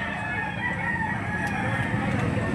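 Chickens and roosters at a livestock auction market in Lipa, Batangas, clucking and crowing in a dense, steady farmyard din close by, with crowd murmur underneath.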